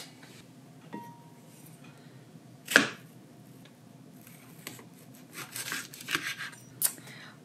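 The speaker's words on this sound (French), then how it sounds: "On va couper notre aloe vera." An aloe vera leaf being cut with a knife: scattered faint taps, one sharp crisp chop, then a cluster of slicing and scraping sounds, all close and quiet over a low room hum.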